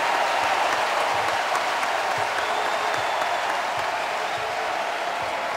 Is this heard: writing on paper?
no